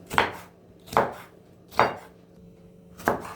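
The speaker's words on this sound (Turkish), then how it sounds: "Kırmızı biberlerimizi doğruyoruz." A knife chops red peppers on a cutting board in four crisp, unhurried strokes with short pauses between them.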